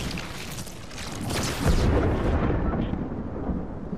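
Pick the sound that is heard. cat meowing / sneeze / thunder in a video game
thunder in a video game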